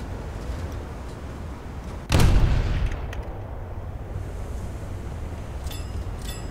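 A single heavy naval gun salvo booms from a ship in War Thunder, with a sharp blast that rolls off into a fading rumble over steady wind and sea noise.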